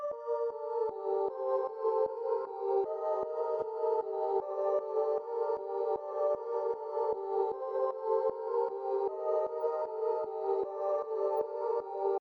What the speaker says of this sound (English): Went to gross beat and I put in this sidechain A gate pattern